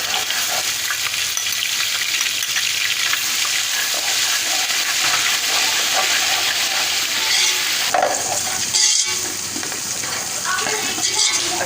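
Garlic ginger paste frying with onions in a pan for a Lahori beef bong paya salan, a steady loud sizzle running throughout with stirring scrapes near the end.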